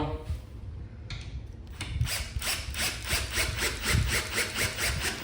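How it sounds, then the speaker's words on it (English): Power drill driving screws into an oversized outdoor rocking chair during assembly, a steady pulsing whir with rhythmic bursts building after a few quiet starts, close and fairly loud throughout. "And as I'm drilling it, I'm kind of holding it here so it doesn't, move away on me."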